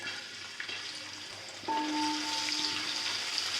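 Onions drop into hot oil with whole spices partway through, and the quiet background hiss jumps to a louder, steady frying sizzle in a home kitchen, with no voices.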